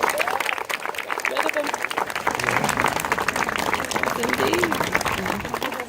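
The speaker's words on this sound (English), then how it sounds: "Let's give them a round of applause, and give yourselves a round of applause." Sustained applause from a large audience at an Air Force ceremony, dense and loud throughout with a few cheers and voices mixed into the clapping.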